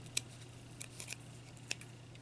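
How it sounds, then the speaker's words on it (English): Scissors snipping off a piece at the tip of a vintage bird's nest spoon ornament, a few sharp, faint, separate clicks over a steady low hum. "I'm going to cut this off right here"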